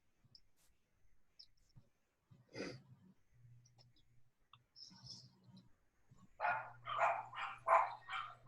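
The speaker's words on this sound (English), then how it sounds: "Somebody got some yappy dogs?" Small Yorkshire terriers yap in quick high-pitched bursts, first a lone bark, then a rapid run of four or five yips near the end, over quiet background hum and faint clicks.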